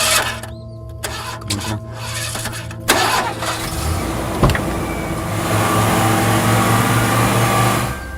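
A car engine cranks with a few uneven mechanical whirs and clicks, then catches and settles into a steady running hum, close and moderately loud, in a dramatic film scene with no speech during the start.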